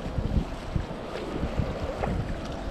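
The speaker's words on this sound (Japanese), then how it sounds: "風が強くなってきました" Strong wind buffets the microphone during kayak fishing on open water near a rocky reef, a continuous roar with low gusty thumps and no talking.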